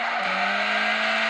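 Car tires squealing continuously while doing donuts in the Assoluto Racing video game, a sustained loud screech over a steady engine drone with no break.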